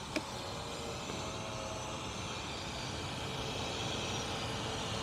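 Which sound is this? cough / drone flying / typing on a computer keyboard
drone flying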